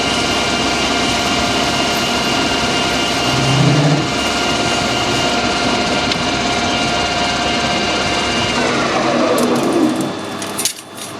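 A metal lathe takes a final cut along the outer diameter of a part before screw cutting fine threads, giving a steady, continuous machining drone at close range that runs unbroken and tails off near the end, with no talking.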